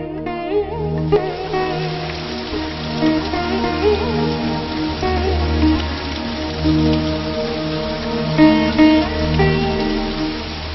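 Steady, continuous rain pours down without a break, a dense wash of drops drumming on surfaces throughout.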